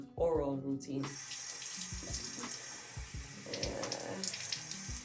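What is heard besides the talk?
water flosser spraying water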